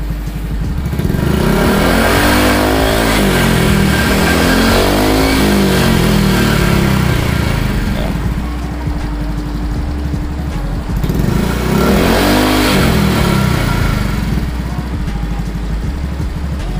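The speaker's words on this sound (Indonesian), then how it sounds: "kita langsung becek aja nih gasnya" A motorcycle engine running on Delta Loop oil is revved loudly and close up. The throttle opens in two long surging swells that rise and fall, with a steady idle in between.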